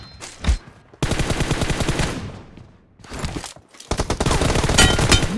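Gunfire in a video game: loud, close bursts of rapid automatic shots come in three separate volleys, with short gaps between them.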